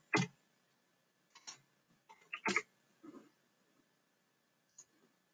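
A handful of sparse, sharp key clicks as a password is typed on a keyboard, tapped at an uneven pace, close and quiet, with gaps of silence between them.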